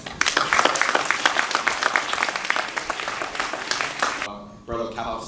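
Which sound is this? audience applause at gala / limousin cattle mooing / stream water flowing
audience applause at gala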